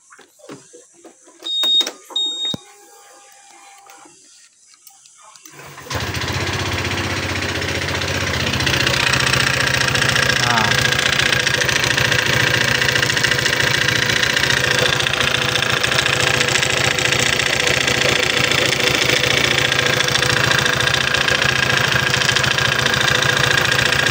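A Honda PCX 150 scooter engine starts after a few clicks and runs steadily at idle, loud and close, with a persistent rattling knock from the opened drive area and no talking.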